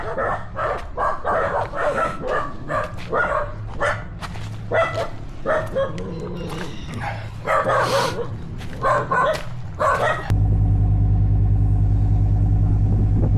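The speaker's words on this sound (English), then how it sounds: "now all the dogs are telling me to shut the fuck up" Several dogs bark repeatedly in a loud, irregular chorus, some near and some farther off, followed by a steady vehicle engine rumble taking over near the end.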